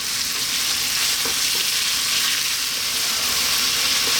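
Loud, steady sizzling of chicken pieces frying in a pan on high heat, a dense hiss with occasional pops and stirring sounds, no voices.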